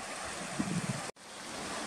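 Stream water rushing over a trail crossing in Young Gulch, Roosevelt National Forest, a steady broadband wash heard close, with a brief dropout near the end.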